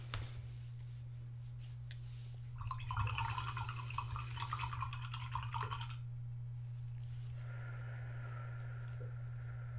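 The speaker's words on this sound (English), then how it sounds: "by inhaling as we wash out our brushes and exhaling as we blot" Watercolor paintbrushes swished and rinsed in a water cup, a brief wet sloshing and dripping burst in the middle over a steady low electrical hum, with no one speaking.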